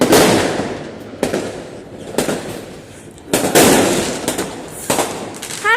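New Year fireworks burst in a series of loud, booming explosions, several sharp bangs followed by crackling and a whistling streak near the end.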